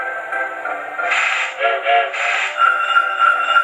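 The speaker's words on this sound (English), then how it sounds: "The train is leaving." A train pulls away at a Christmas Santa ride, its whistle sounding in steady bursts over a continuous rumble of moving cars, fairly close and clear with no talking.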